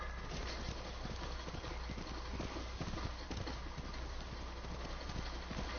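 Horse hooves from Ghost of Tsushima clip-clop in a steady galloping rhythm, close and continuous, over a constant low rumble of in-game ambience.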